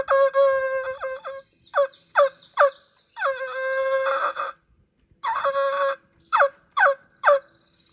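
A hand-held turkey call played flat against the hand imitates turkey yelps and gobbling clucks, loud and close, in several short bursts with brief pauses between them.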